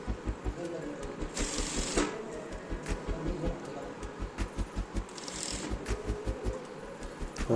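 Sewing machine stitching a collar onto the front side of a denim shirt, a steady rapid needle rhythm running throughout with brief pauses and bursts, close up, with a voice talking over it.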